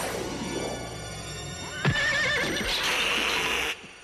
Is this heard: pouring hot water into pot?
no